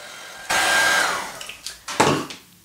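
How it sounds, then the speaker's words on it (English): A heat gun blows steadily while heat embossing powder on a handmade card with distress ink blending, a loud broadband rush starting after a brief pause, then cutting out and returning in short bursts. "So I'm just going to heat emboss that now."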